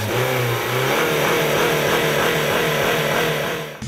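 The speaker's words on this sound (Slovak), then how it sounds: "Ako si môžeme všimnúť, 2-litrika sme naštartovali" A 2007 Honda Civic Type R's high-revving 2-litre engine runs up through the revs with a loud, close, continuous mechanical roar, sustained for several seconds before dropping off at the end.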